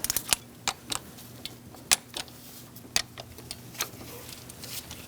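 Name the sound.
torque wrench clicking on valve cover bolts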